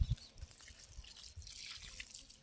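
Frothy liquid solution poured onto an eggplant plant in a garden, heard as a faint, continuous watery trickle with a few soft splashes, no voices.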